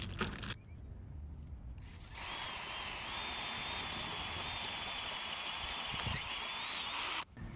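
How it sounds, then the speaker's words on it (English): A power drill widens a small hole in a heavy solar panel for aluminium rivet nuts on a Mercedes Sprinter camper van, a steady close whirring grind running for about five seconds after a brief start and stop. "I've drilled a small hole, now I'm going to widen that out to suit these aluminium nuts"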